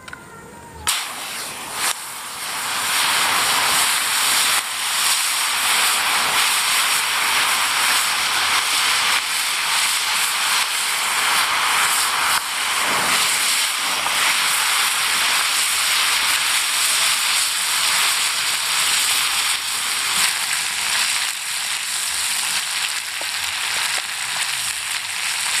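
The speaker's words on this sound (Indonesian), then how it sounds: "kita langsung kita goreng untuk belalangnya ya" Grasshoppers frying in hot oil give off a loud, steady sizzle and crackle. The hiss rises sharply after a brief start and then holds, close and continuous, with no voices.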